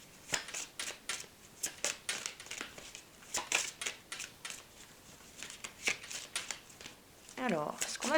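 Tarot cards being shuffled, a run of quick crisp riffling bursts repeating at an uneven pace, close and fairly quiet, with a short voice near the end.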